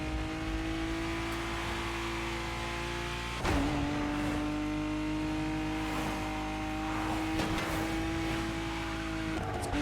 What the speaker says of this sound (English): So, let's listen to its engine,